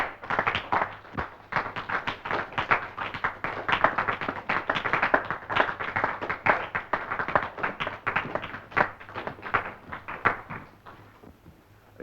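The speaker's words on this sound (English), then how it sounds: "I hope you can all hear the applause in the studio at the mention of Norma's name." Studio audience applause in a 1937 film, a modest group clapping with distinct individual claps in a fairly quick, uneven rhythm, moderately close and without talk, tapering off at the end.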